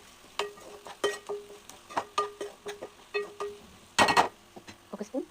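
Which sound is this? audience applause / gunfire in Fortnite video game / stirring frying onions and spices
stirring frying onions and spices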